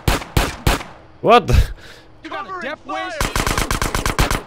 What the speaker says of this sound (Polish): Jak dziwnie strzela ten CJ czasami